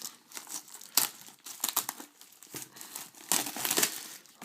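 A Pokémon Dragon Exaltés card display box is opened by hand, with close, irregular bursts of crinkling and tearing wrapper and cardboard, no voices.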